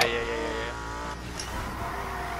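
Cars race in the Need For Speed video game, engines droning loudly with a high tire squeal at the start that fades into a sustained roar.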